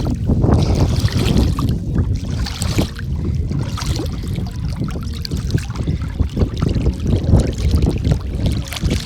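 A boat glides across the water in a park, with continuous water splashing and lapping against the hull, rough wind buffeting the microphone, and faint voices in the background.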